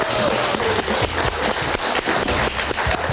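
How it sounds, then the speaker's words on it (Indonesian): Audience applause for two guest musicians at an Indonesian panel event, steady and dense clapping from a sizable crowd that fills the whole stretch, close and loud with no pause. "Kita berikan tepuk tangan untuk Mas Ariel dan juga Kang Arman."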